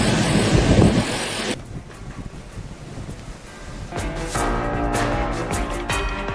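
Strong gusting wind roars loudly across the microphone, buffeting and rumbling throughout with surging and easing bursts, alone with no voices.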